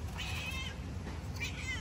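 A cat gives two short meows, close and clear, one near the start and another near the end, over a low steady background hum.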